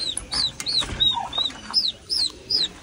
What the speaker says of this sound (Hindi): टर्की के 2 बच्चे